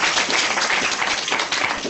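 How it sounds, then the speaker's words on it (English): Audience applause for Hall of Famer Mike Haynes, class of 1997, at a speaking event: a dense, steady wash of many hands clapping, loud and sustained throughout with no voices. "Hey, y'all can clap."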